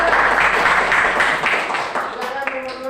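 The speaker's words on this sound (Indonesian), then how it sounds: "Saya berikan tepuk tangan." A classroom audience gives a round of applause at a teacher training session, dense clapping that fades toward the end as speech takes over beneath and after it.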